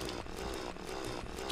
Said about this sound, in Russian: у меня есть вот такая пила, сейчас я вам покажу ее